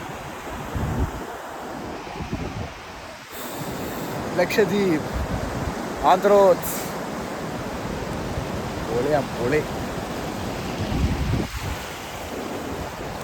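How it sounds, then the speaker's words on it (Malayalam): Sea waves crash and wash against rocks on the shore at Androth, Lakshadweep, a continuous surging roar with wind noise, while a person talks over it intermittently. "തിര വന്ന് കല്ലടിച്ചു ഓ നല്ല തിരയാണ് അങ്ങോട്ടേക്കൊക്കെ"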